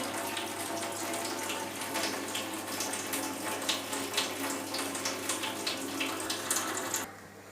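Water runs from a kitchen tap in a thin steady stream while instant noodles are being cooked, a continuous close hiss with faint clinks and taps over it, and the flow stops abruptly near the end.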